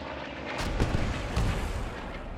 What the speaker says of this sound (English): Sounds like an Allied bomber.